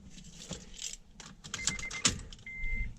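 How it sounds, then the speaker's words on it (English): A key jingling and sliding into the ignition of a second-generation Acura TSX, close metallic clinks and rattles with a couple of sharp clicks and soft electronic chime tones as the ignition turns. "Let's put the key in the ignition"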